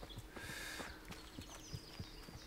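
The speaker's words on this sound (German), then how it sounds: "Interessant eigentlich, dass das Pferd trotzdem so gut hier durchreiten kann." Horse hooves from the medieval game Kingdom Come: Deliverance beat in a steady, quick rhythm of close thuds over a low ambient bed, with no talk.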